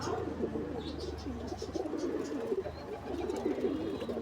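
Steady, close pigeon cooing from a male fancy bird fills the loft, a continuous layered murmur of several birds with no talk over it.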